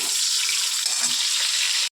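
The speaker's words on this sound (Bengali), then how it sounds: "আগে বেগুনটা ভাজা করে নিই" Eggplant pieces fry in hot oil in a pan, giving a steady, bright, close sizzle that holds evenly for almost two seconds before cutting off abruptly.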